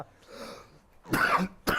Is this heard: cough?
yes